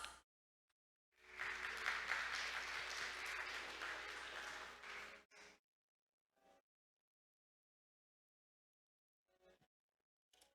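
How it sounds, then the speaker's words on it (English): Applause from a maritime conference audience in Busan, a sustained burst of clapping lasting about four seconds that then stops abruptly, leaving near silence with a few faint stray sounds. "Let's welcome him with a big round of applause."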